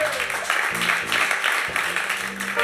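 Audience at a live studio entertainment show applauding and cheering, a steady wash of clapping with bursts of crowd noise and low thumps.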